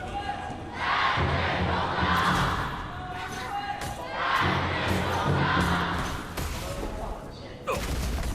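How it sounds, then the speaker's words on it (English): A large arena crowd at a KPL esports playoff match between Weibo Gaming and Wolves roars in two big swelling waves of cheering and shouting, with a commentator's voice underneath. "I mean, this cheer has been big, right?"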